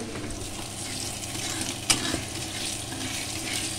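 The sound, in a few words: frying fish and potatoes in a pan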